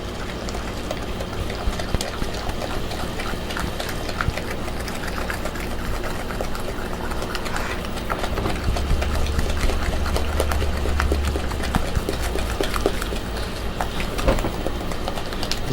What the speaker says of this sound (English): We're just going to mix the eggs in one at a time.